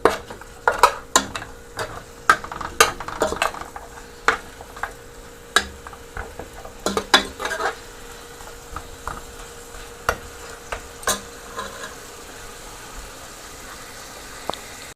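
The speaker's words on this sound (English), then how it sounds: "So now I'll let it fry up a little." Beef stir fry cooks in a pan with a low, steady frying hiss punctuated by many sharp clicks and clatters of utensils against the pan, close and irregular, with no talking.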